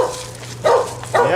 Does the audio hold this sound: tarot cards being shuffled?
no